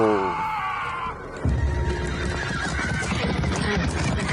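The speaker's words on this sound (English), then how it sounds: "Oh no, when the horses panic." Panicked horses neighing and whinnying in Game of Thrones, loud and close, with hoof clip-clop and dramatic background sound following the sharp whinny.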